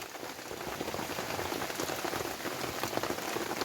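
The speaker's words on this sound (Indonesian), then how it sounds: "Ternyata ini hujannya makin deras ini." Heavy rain pours steadily onto a campsite and tent shelter, a dense, continuous close-up hiss of drops with no talk over it.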